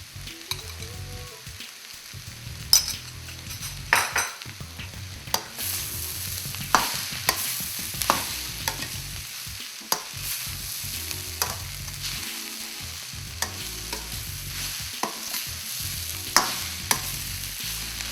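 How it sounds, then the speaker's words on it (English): Vegetable cutlet mixture of mashed potatoes, vegetables and salt being stirred and mashed in a bowl, with repeated scraping and knocking strokes at an uneven rhythm, close and fairly quiet, no talking. "Mix it all up. You don't want any lumps."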